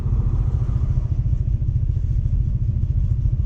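A 1960 Studebaker Lark engine fitted with an Avanti R2 cam runs close up with a loud, lumpy low-pitched rumble, steady and throbbing with a shaking pulse, no voices.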